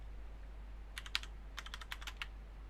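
A computer keyboard clicks through two short bursts of typing, a few quick keystrokes then a faster cluster, faint and close against a steady low hum.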